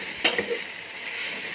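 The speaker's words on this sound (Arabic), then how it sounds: "واقلب كله مع بعضه كده" Rice, lentils and vermicelli stirred together in a pot, one short scraping clatter of a spoon followed by a faint low sizzle.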